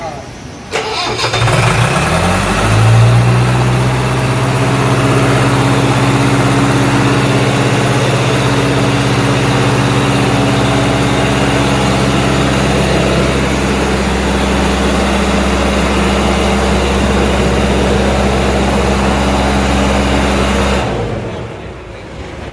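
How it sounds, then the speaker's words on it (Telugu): A diesel fire pump engine cranks and catches, then runs loud and steady with a deep throbbing drone for about twenty seconds before shutting off. "ఇంజన్ ఆన్ చేస్తుంది ఆన్ చేయండి"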